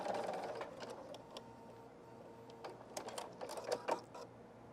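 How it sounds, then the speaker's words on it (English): A sewing machine straight stitches fabric petals for a petal pillow, a quiet rapid mechanical chatter with a few sharper clicks, heard alone. "come back to the machine, remove the clip, and just straight stitch about 1/4 of an inch away"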